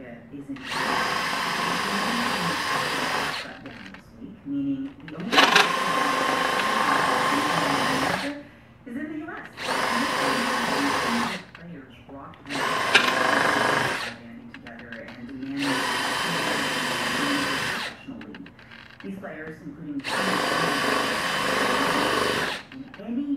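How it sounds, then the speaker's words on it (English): A power drill fitted with a countersink bit whines in six steady bursts with short pauses between them, countersinking holes in a skull plate while remounting a whitetail deer head. "I got my countersink bit in my drill. I'm going to countersink these holes a little bit."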